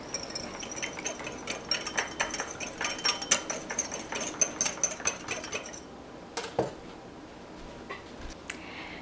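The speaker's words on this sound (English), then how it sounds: "And I'll whisk that to combine." A whisk beats a dressing of Dijon mustard, salt and pepper in a bowl, making quick, light, rhythmic metallic clicks for several seconds before stopping, followed by a couple of soft knocks.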